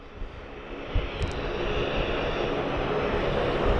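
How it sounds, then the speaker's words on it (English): A Link Airways Saab 340 turboprop coming in to land at Sydney Airport, a loud, steady engine roar that builds gradually and stays close throughout, with no one talking. "Oh, and a loud Saab 340 coming in."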